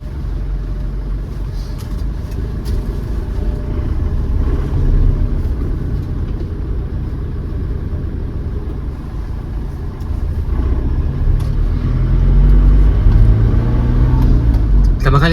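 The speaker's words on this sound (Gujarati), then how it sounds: "આવું ડીઝલ એન્જિનનો અવાજ છે ને મને તો બહુ ગમે ભાઈ." A diesel car engine runs with a steady, close, low rumble that holds throughout and swells slightly near the end.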